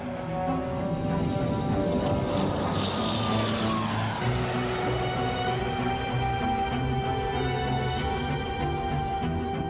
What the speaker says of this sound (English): Both planes take off into a stormy sky.